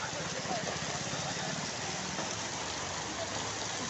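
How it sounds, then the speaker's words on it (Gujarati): Heavy storm rain pours in a steady, dense roar with no let-up, a low rumble running beneath it while a voice speaks under the downpour. "બહુ ખતરનાક વરસાદ આવે છે"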